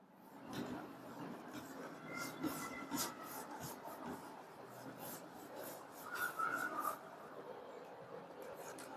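A duster rubs writing off a classroom board during a maths lesson, a steady scraping rasp with repeated strokes running continuously, moderately close and without talk.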